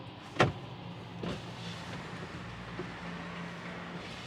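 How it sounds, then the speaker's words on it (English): Tesla Model 3 or X power windows in winter, a low motor whir running for a few seconds inside the car, preceded by a sharp click or thump, quiet and without speech. "The windows are working better now."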